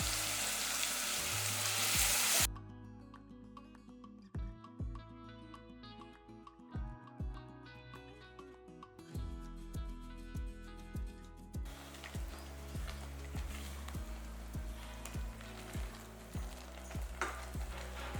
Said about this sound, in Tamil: இப்போ அரைச்சி வச்சுருக்க இந்த விழுதையும் அதில் சேர்த்துடலாம்